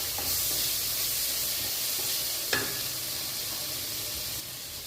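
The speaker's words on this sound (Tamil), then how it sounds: "இது ஒரு 2 நிமிஷம் நம்ம வதக்கலாம்." Tomatoes sautéing in a pan for paneer bhurji give a steady close sizzle with light stirring scrapes and one brief clink, continuous and alone without talk.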